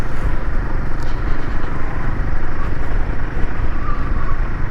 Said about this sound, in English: this is my brand new Royal Enfield Himalayan 450